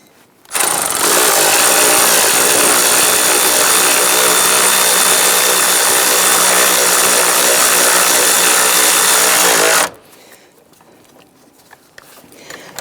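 A power tool whirs loudly and continuously for about nine seconds while snugging bolts on the coolant reservoir of a 2011-2021 Jeep Grand Cherokee, then stops, leaving quiet background.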